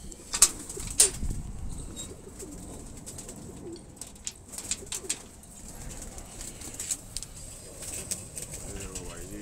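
Kalseere Madrasi pigeons coo softly nearby while wings flap in quick bursts, with someone talking over the birds throughout.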